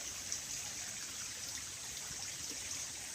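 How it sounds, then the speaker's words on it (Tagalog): A small mountain stream flows steadily in a quiet setting, making a soft, continuous trickling and babbling wash that stays faint and even throughout. "maririnig natin, yung daloy ng tubig."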